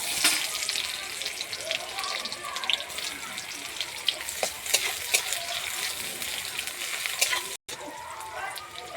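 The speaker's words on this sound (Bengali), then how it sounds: "গোটা জিরে দিয়ে দিচ্ছি, তেজপাতা দিয়ে দিচ্ছি, পেঁয়াজ দিয়ে দিচ্ছি" Whole cumin, bay leaf and onion sizzle in hot oil in a home kitchen, a dense steady frying hiss with scattered crackles and stirring, faint voices in the background.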